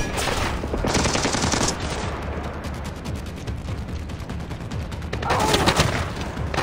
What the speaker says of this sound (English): Good shooting, bro.